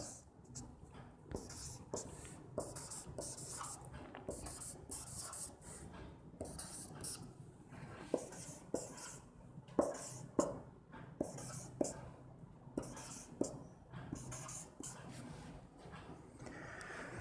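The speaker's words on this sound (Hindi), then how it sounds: "उससे पहले मैं आंसर लिख देता हूं" Pen or marker writing answers on a board or paper during a Hindi English-grammar lesson on determiners, heard as faint scratchy strokes and taps scattered across a quiet room, with a few sharper clicks midway.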